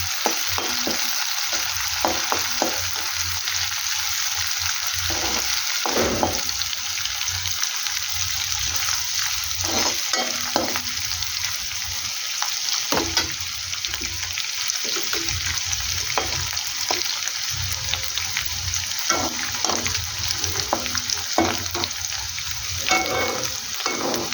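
Prawns sizzle steadily in hot oil in a pan as they fry to golden, a dense continuous crackle broken by occasional stirring scrapes, close and fairly loud with no voices.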